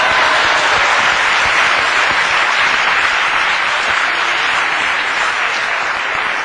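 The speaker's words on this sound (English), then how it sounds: "can we now give an applause for the 2 or 3 or 4 of y'all that are African American?" Sustained applause from a large audience, dense steady clapping filling the whole stretch at full loudness with no voices on top.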